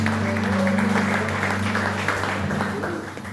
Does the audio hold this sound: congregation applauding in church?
yes